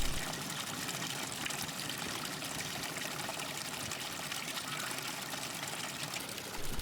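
A freshwater spring at a beach pours and splashes onto the ground without pause, a constant close trickling rush at moderate volume.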